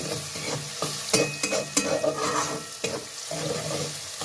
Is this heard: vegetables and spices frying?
yes